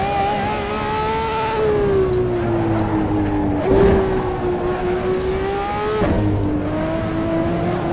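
Ferrari 599XX Evo in the Assetto Corsa racing game slides through corners, its engine tone dipping and rising as the tires squeal continuously in a loud, close, sustained wash.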